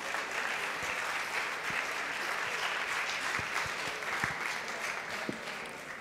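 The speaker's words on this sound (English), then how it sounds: "A huge round of applause." Steady applause from a large audience at a law festival's valedictory function, dense and sustained throughout with a few louder individual claps standing out near the front.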